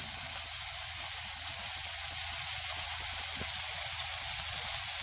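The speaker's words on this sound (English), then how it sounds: "The sizzling sound of the burger and the smell." Constant hissy sizzling of a burger patty frying in a hot pan, a steady crackling wash with no pauses and no talking.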